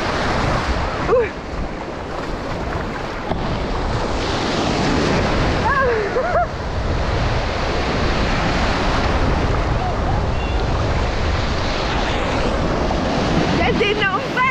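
Huge ocean waves breaking on the beach at Maspalomas, a loud continuous surf roar with wind noise battering the microphone, and brief voices and calls now and then over the crashing water.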